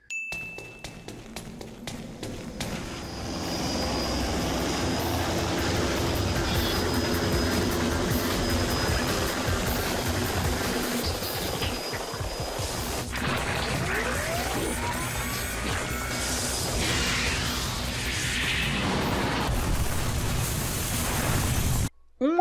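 Devil May Cry 2 video game escape scene from a demonic helicopter, long roaring engine and rumbling noise with metallic pings, bursts and explosive hits throughout, loud and continuous for over twenty seconds.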